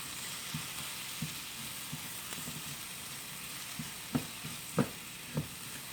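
Mushrooms sauté in a pan with a soft, steady sizzle, and a few distinct knocks and scrapes of a spoon or spatula stand out near the end.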